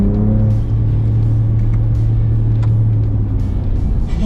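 A 2022 Ford Ranger Raptor with a 10-speed gearbox drives along, its engine giving a loud, steady low drone with a held tone and road rumble, continuous throughout and with no talking.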